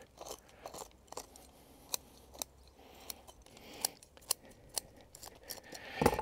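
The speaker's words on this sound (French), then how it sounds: "il faut prendre un ciseau qui coupe bien" Long scissors snip through Japanese maple bonsai roots in a run of crisp, separate clicks and crunches at an uneven pace, close and fairly quiet, with faint scraping between cuts.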